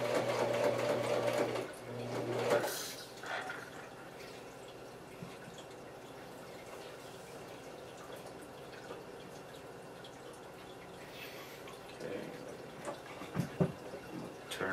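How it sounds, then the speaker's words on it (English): Sewing machine back stitching at the edge of a handmade handbag, a short close burst of stitching at the start, then quiet handling with a few faint clicks. "And at the edge, I'm gonna back stitch"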